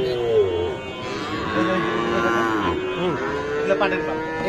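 Sahiwal cattle at a busy livestock market low and moo repeatedly, drawn-out calls overlapping amid background crowd murmur.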